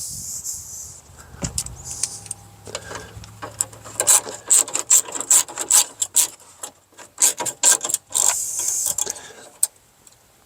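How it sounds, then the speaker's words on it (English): A 1/4 inch drive ratchet turns on a Lexus CT200h during inverter pump replacement, giving quick, irregular clicks and scraping strokes up close, with softer rubbing and handling noise in between. "There's my 1/4" drive ratchet."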